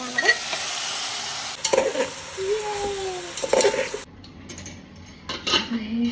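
Marinated vegetables and paneer drop into a hot pan and sizzle loudly, with utensil scrapes and clinks of stirring close by, the hiss cutting off partway as the sizzle fades; a voice talks briefly.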